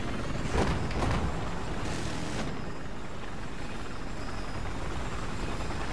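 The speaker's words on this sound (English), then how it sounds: "I'm a horrible helicopter driver" Helicopter in the video game Battlefield 4, a steady rotor and engine drone filling the whole stretch with a brief louder surge near the start, no talk.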